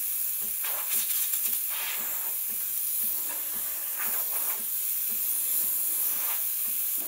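The steam wand of a Breville Barista Express BES870 espresso machine lets out a loud, steady hiss at full steam that lasts throughout. Faint sputters rise and fall within the hiss, and no one speaks.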